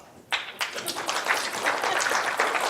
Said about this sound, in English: Just real fast, first of all, clap.